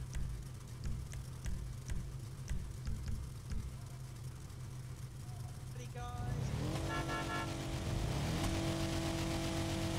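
Go-kart engines racing in GTA 5, a steady buzzing motor drone that swells into louder revving partway through, with a voice talking over it.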